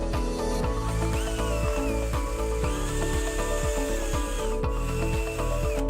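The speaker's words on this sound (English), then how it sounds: "For these drain holes, it doesn't matter a whole lot what size they are, but I like to try and keep them smaller, so I'm going back to our 3/16 inch drill bit" A 3/16 inch drill bit bores drain holes through a plastic cup, giving a steady, close whirring grind with a repeated rhythmic chatter of the bit biting the plastic.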